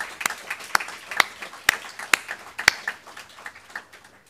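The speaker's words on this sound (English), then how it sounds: "Can we have a round of applause to thank them" A small scattering of hands claps in sharp, spaced beats after closing remarks, about a handful of people, fairly close, with no voices over it.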